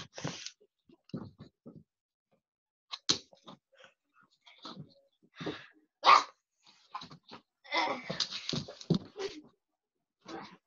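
A puppy lets out a series of short, high whimpers and yips, scattered in bursts with quiet gaps between them.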